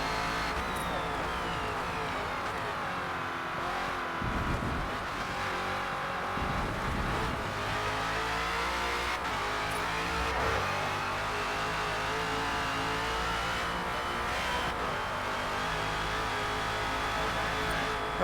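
A #17 Ford Falcon FG X race car in Forza Motorsport at Road Atlanta drones steadily and loudly throughout, its engine note rising and falling through gear changes with brief dips, with no talk.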